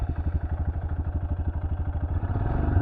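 A solo motorbike engine pulses steadily and close as the rider heads out along a sandy riverbed in the dark, a low, even throb with faint clatter and no voices.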